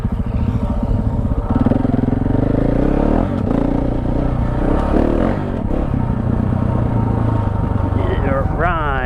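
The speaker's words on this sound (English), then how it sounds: "it's just me and Nerb riding through the campsite" A KTM off-road motorcycle rides through a campsite on dirt trails with a loud, continuous engine drone and a rumbling exhaust, along with clattering and wind noise, while a voice talks over it.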